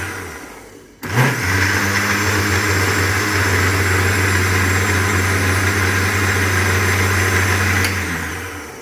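An electric blender whirs into strawberry puree for homemade eggless ice cream: a sudden start, then a loud steady motor drone with a whining blade tone for about seven seconds before spinning down.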